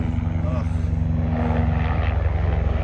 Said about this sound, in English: I'm gonna try to yell over the sheriff's department helicopter, wherever he's going.